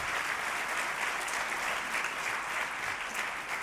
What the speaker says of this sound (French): Moi, je pense qu'il faut des applaudissements d'abord.